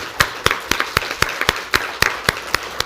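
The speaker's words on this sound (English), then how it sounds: "Please, let's give an applause to the presenters and to yourselves." Clapping at a conference session after the presenters finish: sharp, evenly spaced claps roughly four per second, close and clear, from what sounds like only a few people rather than a full crowd.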